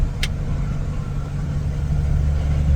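A fire truck engine held at full gear rumbles steadily as a low, continuous drone, close and loud, rising slightly near the end, with no voices.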